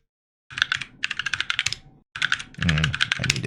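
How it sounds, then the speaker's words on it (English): Fast, close keystrokes on a computer keyboard as a sudo password goes in, two quick bursts split by a short pause, clear and crisp with no talking. "And I need to type my sudo password correctly."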